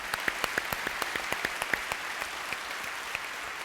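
A conference audience claps in a round of applause, sharp individual claps standing out over a steady wash of hands, fading slightly toward the end.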